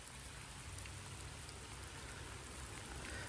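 Steady rain falling, a soft constant hiss of drops on surfaces, faint and even throughout.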